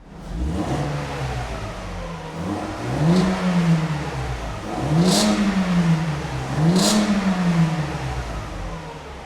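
A Mercedes W140 S320L engine with original catalytic converters is revved three times in a row, each rise and fall in pitch smooth and steady, heard from a moderate distance.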